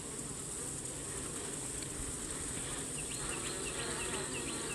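Honey bees hum continuously at an open hive during queen rearing, a dense, even buzz close by with a few brief higher chirps near the end and no voices.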